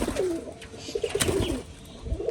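Two pigeons at a pigeon farm coo softly in a low, rolling series of repeated calls, close by, with faint background hum and no talking.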